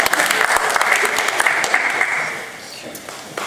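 Applause from the audience at a town board of selectmen meeting, a dense burst of many hands clapping that stays steady, then thins and fades toward the end.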